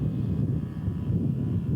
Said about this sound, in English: Randy's got an OS 74 stroke in there.